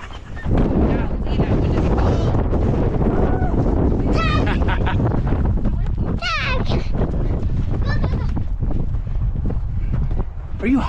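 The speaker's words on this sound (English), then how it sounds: "I'm just trying to stay away from the wind." Wind buffeting the microphone at an outdoor playground, a loud steady roar through nearly the whole stretch, with children's and adult voices talking and calling over it.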